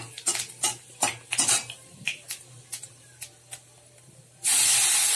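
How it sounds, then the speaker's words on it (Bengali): Panch phoron and dried chillies tempering in hot oil: a series of sharp metallic clinks and taps of utensils, then an abrupt loud, sustained sizzling hiss as the spices hit the oil. "এর মধ্যে একটু 5 ফোড়ন আর শুকনো লঙ্কা ফোড়নে দিয়ে দিচ্ছি।"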